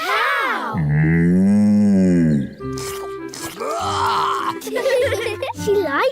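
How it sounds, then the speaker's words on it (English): A cartoon cow gives a long, loud, wavering moo, followed by squeaky character voices and grunts, with spoken lines mixed in. "Ooh, a cow."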